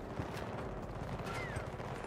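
Tap-fired bursts from an M5A3 rifle in Battlefield 2042, quick repeated shots in short clusters over a busy battlefield background, moderately loud.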